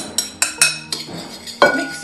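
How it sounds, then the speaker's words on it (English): Melted butter being mixed into crushed biscuits in a bowl, a series of sharp clinks and scrapes of a utensil against the dish in an irregular rhythm, close and fairly loud. "I'm going to add the melted butter to the crushed biscuits."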